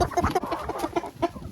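Turkeys and other poultry cluck in a quick, close, uneven series of short calls with small gaps, no voices among them.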